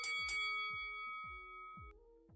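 A boxing bell sound effect rings out clearly in a livestream setting: bright metallic dings with a long ringing tail, followed by a series of lower repeated thumping strikes at a steady rhythm, no voices over it.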